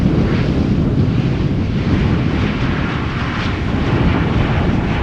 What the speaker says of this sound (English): KLM Flight 644 arriving from New York JFK 777-200.